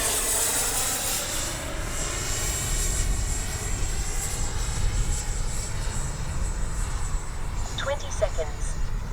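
A radio-controlled F-15 model with twin 64mm electric ducted fans on its landing approach, a steady airy whine holding throughout with slight swells, loud and continuous with no pause.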